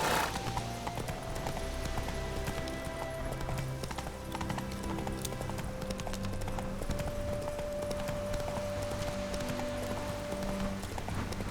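Roach the horse trots in The Witcher 3, steady clip-clop hoofbeats running the whole way beneath a loud, continuous layer of in-game music and ambience.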